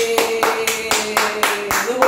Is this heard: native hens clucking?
no